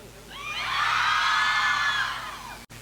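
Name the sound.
girls cheering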